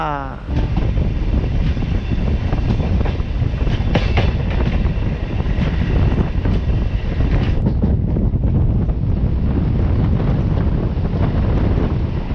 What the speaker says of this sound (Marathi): आणि आता आपली ट्रेन निघाली आहे चिपळूणच्या दिशेने